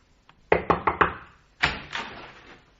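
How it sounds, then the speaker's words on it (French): Someone pounds on a door: four heavy knocks in rapid succession, then two more blows after a short pause, close and loud with a booming resonance. "Le lendemain matin, il tambourinait à ma porte."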